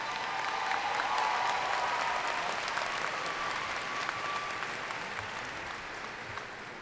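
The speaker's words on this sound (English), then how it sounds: "Please give a round of applause for the 2017" Sustained applause from a large audience of graduates' families and guests at the 2017 USC Price commencement ceremony, a steady, even wash of clapping that holds throughout and fades slightly toward the end.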